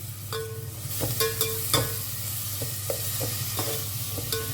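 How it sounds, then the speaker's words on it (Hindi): Chopped onions fry in hot oil for a Goan chicken xacuti, a steady close crackling sizzle punctuated by sharp spatula taps and scrapes against the pan. "तो अब इसमें डालते हैं प्याज, चॉप किया हुआ। प्याज को ना एक हल्का सा ब्राउन कलर आने तक हमें इसे फ्राई करना है।"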